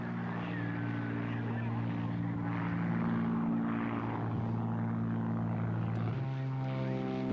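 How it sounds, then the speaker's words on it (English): Rockwell Shrike Commander twin-engine propeller plane flown at a 1986 East Hartford airshow, a steady droning engine hum with shifting pitch as it passes, heard from the crowd over continuous background noise. "Robert A. Bob Hoover, this time flying the Shrike Commander."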